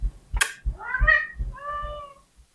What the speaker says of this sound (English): I hope you guys can hear that. It's my cat.